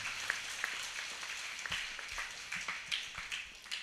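Faint, scattered clapping from a gathered congregation at a church pilgrimage Mass in Virudhunagar, sparse distant claps heard at a low level.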